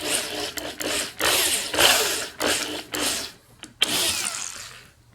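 A power drill whirs in several short bursts with brief pauses between them, close and fairly loud, ending in a clack and a final burst.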